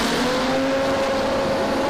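Drag radial race cars in the Outlaw 275 class launching down the quarter mile at an Australian radial racing event, heard as a loud, steady roaring engine drone with a sustained high tone, far off and uninterrupted.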